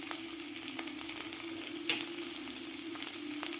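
Cumin seeds and finely chopped garlic sizzle in hot oil with a steady, even hiss and a few faint stirring ticks, fairly quiet and without voices.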